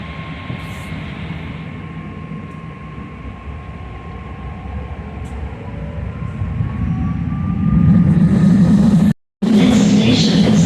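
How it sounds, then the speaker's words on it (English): A BART yellow line train to Antioch runs with a steady rumble and a faint high tone, swelling louder toward the end with a brief drop-out, heard from close range. "This is a yellow line train to Antioch."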